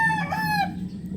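A pet hen in a backyard gives a brief drawn-out call that rises and then drops, close and clear, with a steady low hum underneath.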